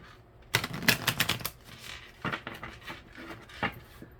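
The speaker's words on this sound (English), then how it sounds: "we're going to split them up to shuffle them" Tarot cards shuffled by hand for a daily reading, a quick burst of crisp riffling slaps followed by a few softer scattered flicks, close and fairly loud with no talking.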